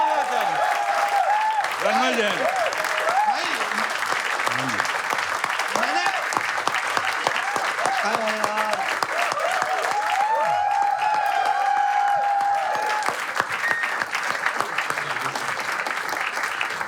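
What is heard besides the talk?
audience applause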